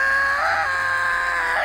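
A Dragon Ball Xenoverse game character lets out a loud, sustained scream that rises and wavers through nearly two seconds, heard alone at close range.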